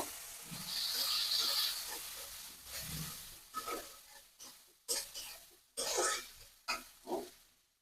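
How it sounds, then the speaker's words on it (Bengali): Chopped onions and chilies stirred in hot oil, with fish oil ready to go in, for a Bengali fish and Malabar spinach dish: hissing sizzle and scraping bursts, fairly loud, with no voices. "আগে থেকে যে পেঁয়াজ মরিচগুলো কেটে রেখেছিলাম তেল দিয়ে হালকা করে একটু নাড়াচাড়া করে নেব"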